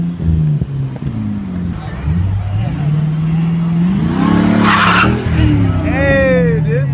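A Dodge SRT car does a burnout at a Crown Rally street gathering, its engine revving high and loud as tires squeal and chirp near the microphone, with people talking and shouting over the noise.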